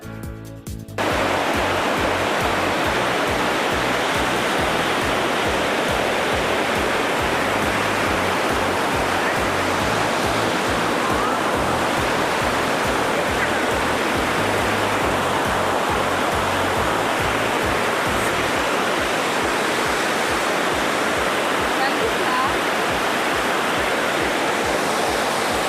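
The Tarabu waterfall at Pittalabor in Andhra Pradesh roars loudly and close, a dense unbroken rush of falling water that stays constant the whole time with no voices over it.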